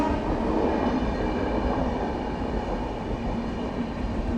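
Bengaluru–Ernakulam Intercity Express (12677) train running, a steady loud rumble of wheels and carriage noise heard from inside the coach, continuous throughout with no talk.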